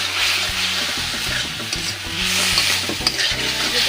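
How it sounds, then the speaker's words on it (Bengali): Taro stolons are stir-fried in a red spice paste in a Bengali home kitchen: a steady oily sizzle with repeated clanks and scrapes of a spatula against the pan in an uneven rhythm. "লতিটা ভালো করে একটু কষে নিতে হবে"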